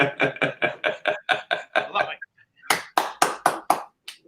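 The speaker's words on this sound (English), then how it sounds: "I can still clap my hands," A person claps their hands in two bursts of about nine quick, evenly spaced claps, close and fairly loud, with a short pause between the bursts.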